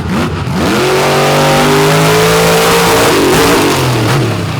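Kraken monster truck driven by Nick Pagliarulo at a night event in Benson, North Carolina, its engine roaring loud and close, pitch climbing steadily then dropping near the end of the run.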